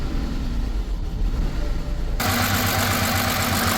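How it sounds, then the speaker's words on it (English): A BMW E90 with a misfiring engine cranks and catches partway through, then settles into a loud, rough idle with an uneven pulse, heard up close. "Yeah, so we're still misfiring."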